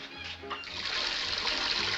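Well water from a tank-and-windmill hookup runs and splashes in an early indoor bathroom, a steady rushing flow that swells and holds for a couple of seconds.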